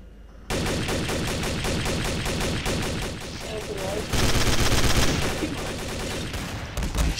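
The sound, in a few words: gunfire from the video game Garry's Mod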